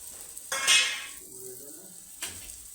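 Liver seasoned with salt and chili powder is stirred in a pan. Two metallic clanks of utensil on pan ring out clearly over a quiet, faint background.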